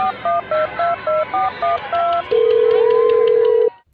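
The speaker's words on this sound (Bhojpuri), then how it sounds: "रुक करो ही फोन।" A telephone is dialed: about eight quick, evenly spaced keypad tones, then a steady ringing tone that holds for over a second before cutting off.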